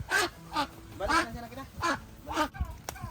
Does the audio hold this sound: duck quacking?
yes